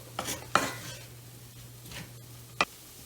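A spoon stirs flour into cooked sausage in a pan for biscuit gravy, giving a few scraping and clinking strokes over a low, steady hum.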